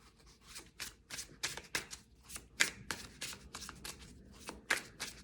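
Tarot or oracle cards shuffled by hand for a card reading, a quick series of close, crisp riffling and flicking bursts in an uneven rhythm, with no talking.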